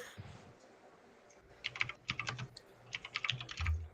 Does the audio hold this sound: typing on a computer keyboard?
yes